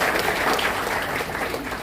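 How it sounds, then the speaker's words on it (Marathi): An audience claps at a state award ceremony, dense, continuous applause from a crowd that stays steady and loud throughout, with no other sound. "सगळ्यांनी आपण एकदा सर्वांचं टाळ्या वाजून अभिनंदन"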